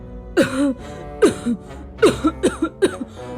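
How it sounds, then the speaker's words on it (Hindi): A person coughs and gasps in several harsh, raspy bursts, close up, the coughs coming quicker toward the end. "बहुत खांसी आ रही है"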